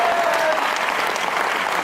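An audience at a poetry recital gives dense, sustained applause, a brief close wall of clapping with no voices over it.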